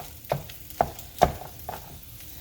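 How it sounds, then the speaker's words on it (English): Ground beef cooking in a skillet, a low sizzle underneath with a few distinct scraping stirs of a utensil at irregular intervals, close by. "we're gonna let that go and then give this a stir"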